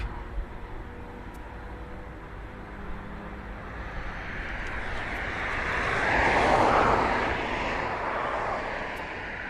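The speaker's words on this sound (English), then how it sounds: "It's an EasyJet." An EasyJet passenger jet flies overhead, its broad engine roar building steadily from a distant rumble to a loud peak about two-thirds through, then easing slightly, with no talk over it.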